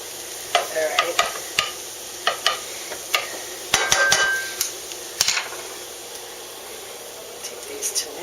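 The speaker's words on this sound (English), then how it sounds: "So we have the garlic going back here. It's starting to sizzle." Garlic sizzles in a pan as a soft continuous hiss, with sharp clicks and scrapes of utensils on cookware scattered throughout, close and moderately quiet.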